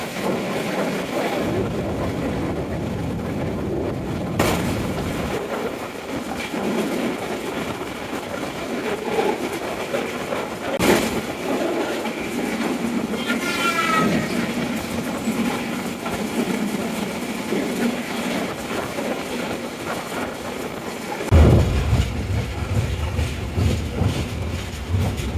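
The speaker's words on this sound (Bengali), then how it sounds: "এই ট্রেনটি বঙ্গবন্ধু সেতুর পশ্চিম পারে দাঁড়াবে না" A train rolls past near the Bangabandhu Bridge over the Jamuna River, a long rumbling rush with rail clatter and a few sharp knocks, loud and close throughout.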